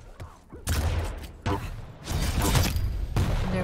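Railgun fire during a duel in the video game Quake Champions at a pro cup match: several loud, sharp blasts come in separate bursts about a second apart, with a quieter stretch before the first.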